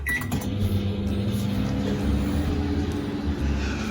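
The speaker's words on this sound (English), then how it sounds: "Now we're going to melt this butter in the microwave." A microwave oven hums steadily while melting butter, a continuous low drone with mechanical whir running throughout, close and moderately loud, with a brief click near the start.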